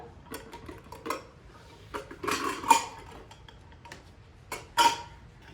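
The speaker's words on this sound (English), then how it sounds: "You can kind of hear the lids clanging together." Metal lids clink and clang against each other in irregular, light bursts, with a couple of louder rattling clusters over faint background noise.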